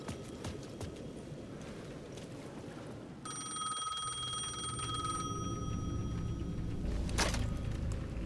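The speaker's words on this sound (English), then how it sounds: "The payphone at the edge of the plaza was ringing again" A payphone at the edge of a plaza in Alan Wake 2 rings with a steady, bright electronic trill that starts a few seconds in and keeps going over a busy, murmuring background ambience.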